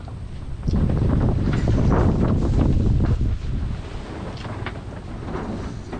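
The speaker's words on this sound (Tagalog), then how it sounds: "naalakas ang hangin eh" Strong wind buffets the microphone in heavy roaring gusts, loudest early on and then easing into a steady rough rumble.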